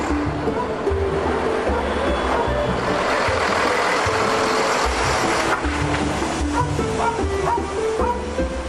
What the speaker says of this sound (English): the driver put the pipe back on the truck and drove away